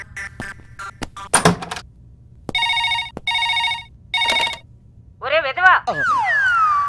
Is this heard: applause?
no